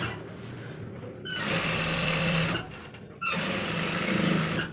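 An electric sewing machine stitches a line along a pant belt in two steady whirring runs, separated by a brief pause, close and clear with no talk.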